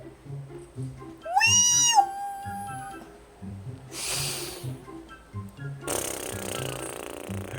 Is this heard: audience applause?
no